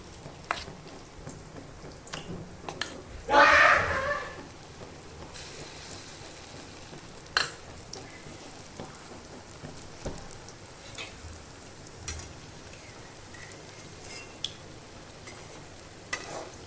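Chana dal pakoras fry gently in oil on low heat, a quiet continuous crackling sizzle with a brief louder spatter burst early on and scattered small pops throughout.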